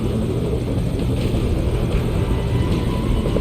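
A helicopter in the video game Metal Gear Solid V gives off a steady low rumble and whir, loud and constant throughout with no voices.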